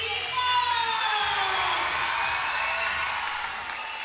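A school basketball crowd in a gym cheers and shouts loudly and continuously, a dense roar of voices and whoops that stays steady throughout.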